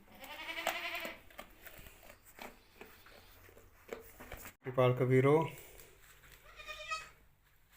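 Goats on a goat farm let out several loud, wavering bleats, one early and a stronger pair near the end, while someone talks nearby between the calls.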